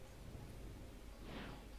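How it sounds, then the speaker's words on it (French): Rain falls steadily with a low rumble of thunder in the video game Spyro 2: Gateway to Glimmer, forming a soft, continuous wash with no voices. "Cette pluie va-t-elle s'arrêter un jour?"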